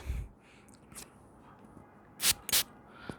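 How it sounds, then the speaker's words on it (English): A perfume atomizer spritzing Lattafa Ejaazi Intensive Silver fragrance onto a paper strip: two quick, sharp sprays in a row, close to the microphone in a quiet room, preceded by a fainter earlier puff. "Let's spray some on the paper again."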